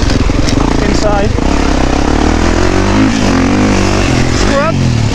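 Kawasaki KX 450 motocross motorcycle ridden on a track in third gear, loud close engine roar with rising and falling revs, a rider's voice heard over it.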